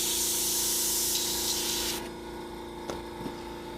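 An airbrush being rinsed out gives a loud, hissing spray burst that cuts off abruptly after about two seconds, leaving a quieter background hiss and a couple of small clicks.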